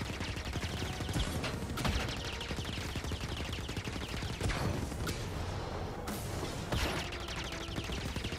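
Rapid, continuous bursts of loud cannon fire and heavy booms pound away without pause, dense and close, in the video game Star Wars Jedi: Fallen Order on Kashyyyk.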